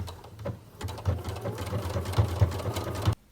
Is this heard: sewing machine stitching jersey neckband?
yes